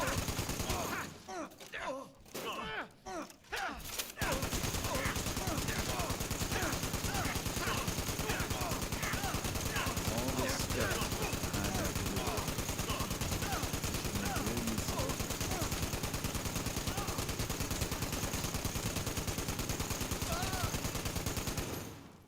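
Automatic gunfire in Fallout 76 shooting at other players, a long unbroken rattle of rapid shots that starts abruptly after a few seconds of quieter sounds and runs steadily before cutting off at the end.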